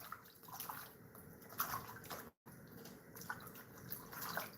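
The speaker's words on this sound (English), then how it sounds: "Let me rinse this prawns." Prawns rinsed under a running kitchen tap, a steady close splashing stream of water with small sloshes, briefly cut off for a moment midway before the flow resumes.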